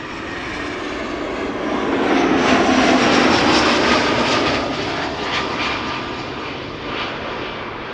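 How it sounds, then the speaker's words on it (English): An EasyJet airliner arriving from Liverpool at Schiphol Airport roars past loudly and steadily, its jet engine noise swelling to a peak and then slowly easing off, with no talk over it. "EasyJet, arriving from Liverpool."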